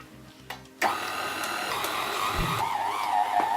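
A stand mixer kneads dough at a very slow speed, starting after a brief knock and settling into a steady, close motor hum with a faint rhythmic whir, with no talking.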